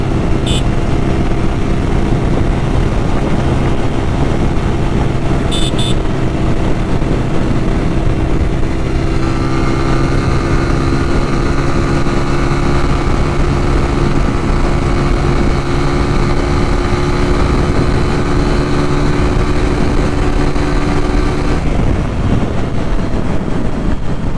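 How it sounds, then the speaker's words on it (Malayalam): A TVS Apache RTR 200 4V motorcycle with the OBD2 B update, being ridden: its engine gives a loud, continuous drone with a steady tone and wind rush throughout. No one speaks. "സഡൻ പിക്കപ്പാണ് കേട്ടോ വണ്ടി നാലാമത്തെ ഗിയറിലാണെങ്കിൽ പോലും"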